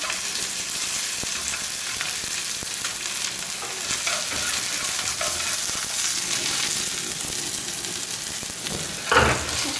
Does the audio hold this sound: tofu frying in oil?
yes